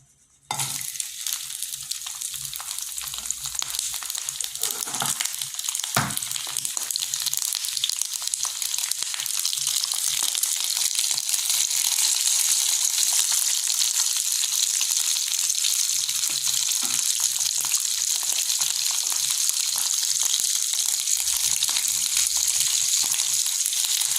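Dried fish (tuyo) frying in hot olive oil, a loud steady crackling sizzle that bursts in right at the start and runs on without pause, with a brief stir or shift of the pan partway through.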